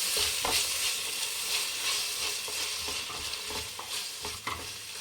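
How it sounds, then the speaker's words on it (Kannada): Tomatoes cooking in a pan for egg rice, stirred with a utensil: a soft sizzle under repeated scraping and light clatter, fairly quiet and close, no voices. "ಟೊಮೊಟೊ ಟೊಮೊಟೊ ಹಾಕಿ ಚೆನ್ನಾಗಿ ಬೇಯಿಸ್ಬೇಕು ಫ್ರೆಂಡ್ಸ್"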